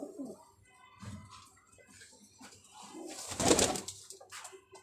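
Pigeons, kept as a fancier's Kamagar and golden teddy breeds, coo softly close by, with a louder burst of fluttering or flapping wings partway through.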